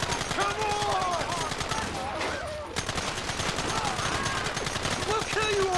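Rapid gunfire in the Western video game Red Dead Redemption, a dense run of repeated shots and bursts with a brief lull midway, heard alongside game music and effects.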